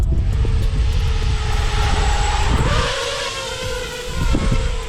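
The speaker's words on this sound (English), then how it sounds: "I'm gonna give it a little throttle." Motors of an iFlight Nazgul Evoque HD FPV drone throttling up: a loud, steady, close whine whose pitch shifts and swells as the throttle changes, with nothing else heard over it.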